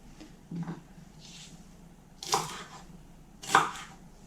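A few sharp knife chops hit a cutting board as an onion is diced, spaced out with pauses between them, fairly quiet and close.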